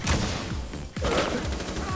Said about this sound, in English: Did you just shoot that claymore?